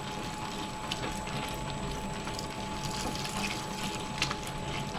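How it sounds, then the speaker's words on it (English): Water trickles slowly and steadily into pizza dough in a stand mixer, a soft, continuous pour beneath a low background hum, with no talk. "I'm going to slowly pour it in."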